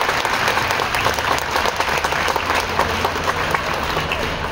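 A college audience at a Shiv Jayanti event applauding, a dense, continuous burst of clapping from many hands that stays loud and even for a few seconds.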